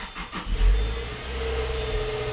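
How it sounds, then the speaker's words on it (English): A Subaru Forester car engine starts up close by, a brief surge of revving that settles into a steady idle hum. "Turn the car on."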